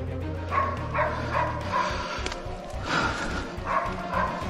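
A dog barks in a series of short yips and bow-wows, fairly close, with background noise and a low hum running underneath.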